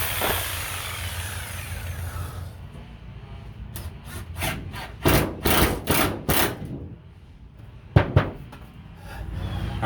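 A hole is cut in a piece of wood with a power tool, coming as a run of short, loud rasping bursts with brief pauses, then a couple of final sharp cuts.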